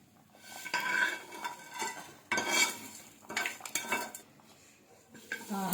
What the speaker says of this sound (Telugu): ఇప్పుడు పోపు చారులో వేస్తున్నానండి.